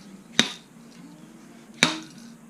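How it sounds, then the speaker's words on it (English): Two sharp, close metallic whacks about a second and a half apart hit a Honda CRF150R front fork tube to knock out its oil seal. Each ringing strike fades quickly into quiet room tone, with no talk. "You'll see the oil seal starting to work out with every whack."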